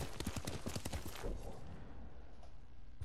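Horse hooves clip-clop steadily in the video game Ghost of Tsushima, a quick rhythmic trot that is loud and close for the first second or so, then fades into softer background ambience.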